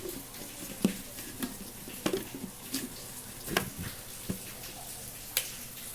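Fried spices are stirred into a pan, producing quiet scrapes and soft clinks of a spoon against the pan at irregular intervals over a faint sizzle, close and low in level.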